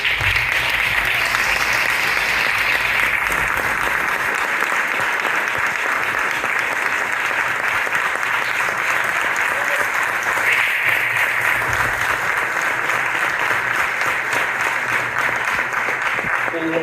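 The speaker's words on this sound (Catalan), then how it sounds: "primero un fuerte aplaudimiento si puede ser, por favor" An audience at a charity trail presentation claps, loud continuous applause that holds steady for the whole stretch, with voices faintly mixed in.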